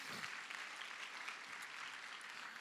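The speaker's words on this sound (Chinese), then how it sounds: "然后拍掌" A church congregation claps their hands after a prayer, a sustained, even patter of many hands heard faint and distant throughout.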